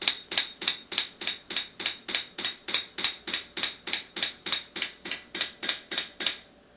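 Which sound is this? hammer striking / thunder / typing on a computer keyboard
hammer striking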